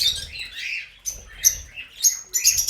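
Small birds in an aviary chirp and tweet in short bright bursts, several quick high calls close by, with light fluttering and scratching underneath and no talking.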